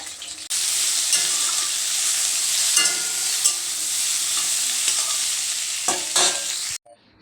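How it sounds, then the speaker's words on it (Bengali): Pointed gourd slices frying in a pan produce a loud, close, continuous sizzle with occasional scraping and tapping from stirring, starting abruptly after a short quiet opening and cutting off just before the end. "পটল ভাজা হয়ে গেলে তারপর এটা ভাজবো তারপর লাস্টে এটা ভাজবো"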